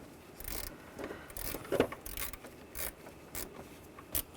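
A ratchet wrench clicks in quick bursts while tightening the bolts on the AC condenser of a 2009–2017 Volkswagen Tiguan, close by, with short pauses between strokes and no talking.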